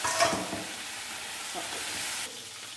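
Butter sizzling and frying in a pot while a salted egg and dried prawn crab dish is prepared, a soft continuous crackle with a brief stirring clatter at the start.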